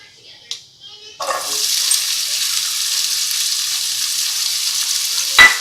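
Chopped onion dropped into a preheated pan of olive oil bursts into a loud, steady sizzle after a quiet start, with a few clinks of a utensil near the end.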